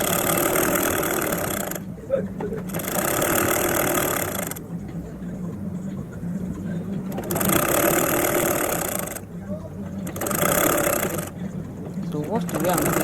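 A sewing machine stitches the front and back panels of cargo trousers together with a half-inch seam. It runs close in loud bursts of rapid chatter, broken by several short pauses.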